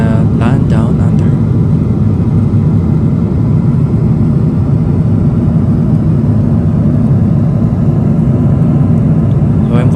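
Steady, loud cabin roar inside a Boeing 777-300ER in flight, a dense low broadband rumble that holds unchanged throughout with no breaks.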